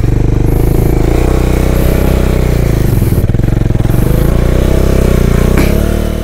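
Motorcycle on a hill ride from Kotdwar to Gumkhal, its engine droning loud and close as it labours uphill in low gear, with a steady rumbling tone that rises slightly as it revs.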